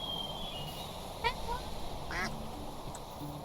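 Ducks in the video game Minecraft give a few brief quacks at moderate volume, scattered over a soft background of game ambience.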